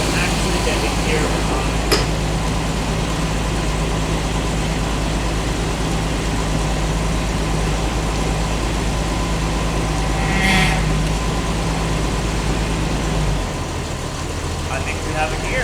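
An old V12 engine in a car that sat unused for 20 years runs at a steady, rough idle, loud and close, then drops to a lower note near the end, with a sharp click and a brief squeal along the way.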